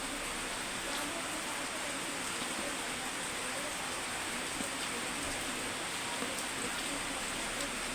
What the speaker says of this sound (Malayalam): അപ്പോൾ നമുക്ക് മഴയൊന്ന് കണ്ടാലോ.